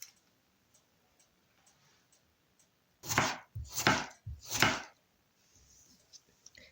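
A knife slices a tomato into half rings on a board, making three distinct, fairly loud chopping cuts in quick succession after several faint ticks, then softer tapping.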